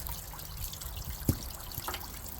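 Coolant drains from a cut hose on a 1996 Jeep Cherokee, a faint, steady trickle and dribble of liquid with a single soft knock partway through.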